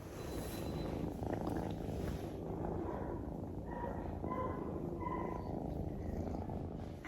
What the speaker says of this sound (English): did you ask to hear some more purr?